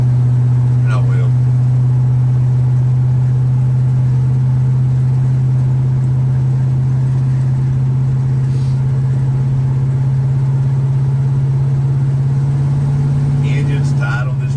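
The engine of a 1977 square body truck runs steadily with a strong, even low drone, close and loud throughout, with no vibration or lifter noise, and a few faint higher sounds near the start and end.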